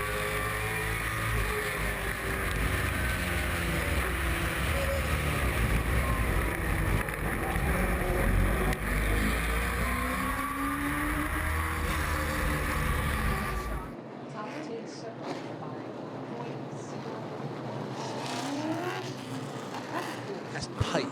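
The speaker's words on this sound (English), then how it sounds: "and this again, Ken, lap traffic coming into play" Limited late model race cars lapping a track in traffic, a dense continuous roar of several engines with passing pitch sweeps, then quieter after a cut, with a commentator-style voice heard over it.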